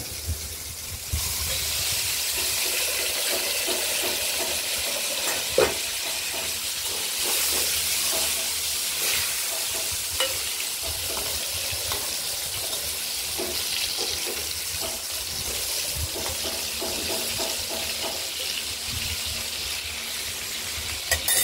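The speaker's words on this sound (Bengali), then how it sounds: "আলুগুলো একটু হালকা হলুদ করে ভেজে নেব" Cut potatoes fry in hot oil with a sustained, fairly loud sizzling hiss, broken by scattered clinks and stirring scrapes, no talking.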